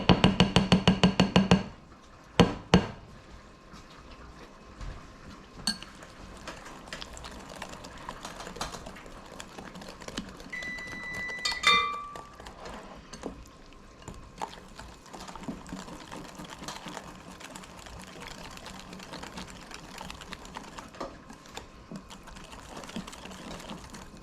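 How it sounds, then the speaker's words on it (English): Banana bread batter is mixed in a bowl with a whisk or mixer, producing a continuous rapid clatter and whir, close and fairly loud, with a few louder knocks at the start. "Let me go ahead and mix it up just a little bit, and then we'll take and whisk it all together."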